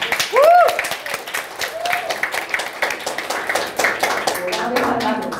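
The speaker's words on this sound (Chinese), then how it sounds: "来，掌声欢迎" An audience at an informal talk gathering applauds a speaker coming up, with a dense run of hand claps lasting several seconds and voices talking over it.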